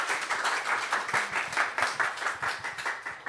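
A church congregation gathered for Sunday worship claps to welcome a visiting missionary family, a short burst of rhythmic, fairly even applause heard at moderate level, with low instrumental tones faintly beneath it.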